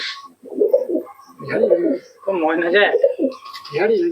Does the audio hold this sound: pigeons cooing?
yes